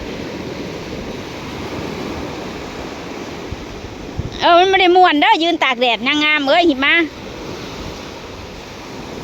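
Sea waves wash onto a beach as a steady roar of surf mixed with wind noise. A voice talks loudly over it partway through.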